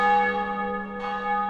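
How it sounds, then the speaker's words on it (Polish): A large church bell sounds a single sustained ringing toll, rich and resonant with clear overtones, loud and alone, struck as an alarm bell. "Larum bije polski dzwon. Racławicki dzwoni dzwon."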